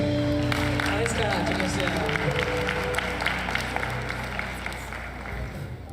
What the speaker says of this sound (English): Can he please have another round of applause?